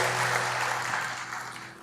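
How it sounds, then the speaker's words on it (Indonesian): A church congregation claps for God during a sermon, a broad, sustained wash of applause that fades slightly toward the end, with a steady low hum beneath it. "Berikan dulu tepuk tangan bagi Tuhan"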